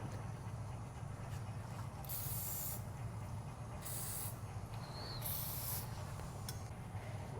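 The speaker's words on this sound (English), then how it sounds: "First, we're gonna add WD-40 and spray it on." Three short bursts of WD-40 spray hiss from a can onto a rusty ATV, each about a second long, over a steady low background rumble.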